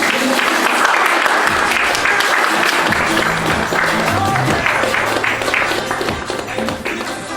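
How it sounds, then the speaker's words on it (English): An audience at a real-estate bootcamp session gives dense, sustained applause that fills the room for several seconds and thins slightly toward the end, with a few voices mixed in. "give a round of applause, guys"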